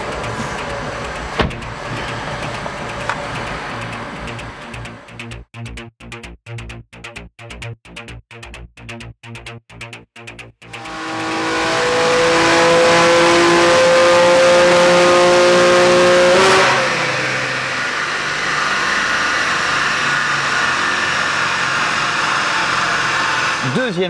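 A manual-gearbox BMW M2 Competition on a dyno runs through a rapid choppy stutter, then a loud sustained full-throttle pull that climbs for several seconds before dropping back to a lower hum.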